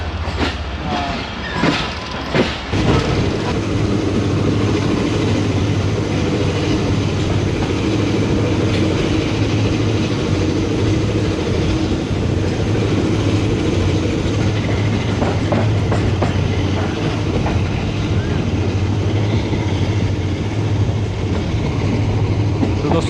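Khyber Mail passenger train hauled by ZC30 diesel locomotive 6323 rolling slowly through Lahore after leaving Lahore Junction yard; steady loud diesel rumble with rail clatter and wheel noise throughout, close by, with a brief burst of clicks near the start.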